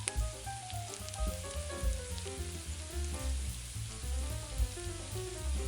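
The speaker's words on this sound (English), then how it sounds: "Continue to turn the beef until it's lightly browned." Ground beef browning in a pan, a dense crackling sizzle with soft popping spatter, steady and close, no voices.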